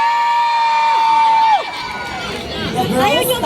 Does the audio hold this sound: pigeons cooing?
no